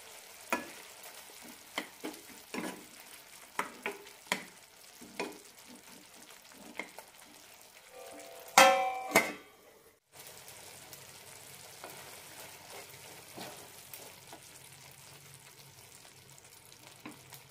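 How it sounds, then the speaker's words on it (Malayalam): Bitter gourd curry with tamarind and jaggery simmers in a pan, with soft bubbling and a series of scraping stirs and clatters. A louder clank comes near the middle, then the pot settles into a low, steady simmer. "ഇടയ്ക്കൊന്ന് ഇളക്കാം."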